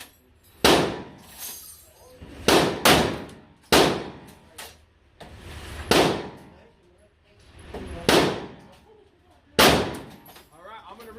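Gunshots ring out at a Las Vegas shooting range, each shot a sharp crack followed by a metallic clang off steel targets, about seven spaced impacts with talking between them.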